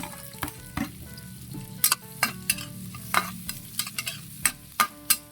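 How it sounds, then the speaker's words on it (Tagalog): Garlic and onion hit hot cooking oil in a pan, giving a steady loud sizzle with sharp stirring clacks of a utensil scattered throughout. "manggigisa na tayo. Tayo mantika. Sunod, bawang. Sibuyas."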